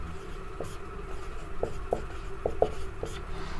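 Chalk or a pen writes on a board during a physics lesson, giving a series of short scratchy strokes and taps spread across the clip over a faint background hum.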